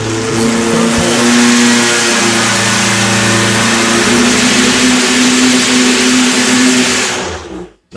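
An EMPI engine revs hard on a dynamometer during an engine-building competition, a loud, steady, strained roar with a sustained harmonic whine that holds for about seven seconds before cutting off abruptly.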